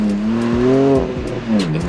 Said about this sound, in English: From drifting around corners